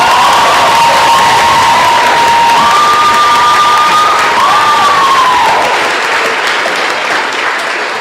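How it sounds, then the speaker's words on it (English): A large audience at a public conversation event applauds and cheers loudly throughout, dense clapping under whoops and a sustained high shout or whistle early on, easing slightly toward the end. "give our sister, Professor Angela Davis, another round of applause"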